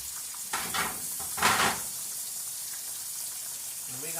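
A pan of shrimp with tomatoes, basil and garlic is stirred, making two short scraping bursts over a faint, low sizzle that is quiet and close.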